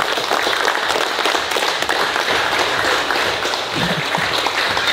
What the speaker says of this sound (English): So can everyone give a round of applause for them for helping out?